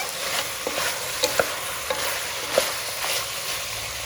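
Mutton fries in a pan, a steady sizzling hiss broken by scattered scraping and stirring clicks from a spoon, close and moderately loud.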